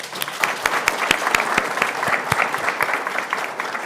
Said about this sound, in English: if we could all give everybody a round of applause